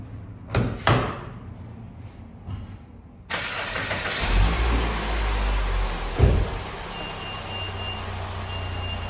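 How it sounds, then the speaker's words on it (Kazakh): A few clicks and thumps come first, then a car engine catches abruptly and settles into a steady, close idle with no voices. "Кеттік, мен көлікті оталдырамын."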